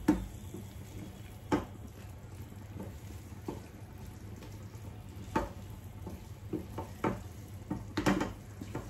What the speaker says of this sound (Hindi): इसको अच्छे से हम मिक्स करेंगे।